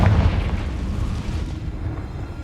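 A Confringo fire spell explodes in Hogwarts Legacy, a deep booming blast that hits loud at the start and then rolls into a dense rumbling tail, with no talk over it.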